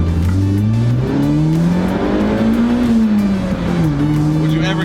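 A Toyota AE86 Corolla on a road test revs hard, its engine note climbing and shifting through gears, loud and close inside the cabin with no talk over it.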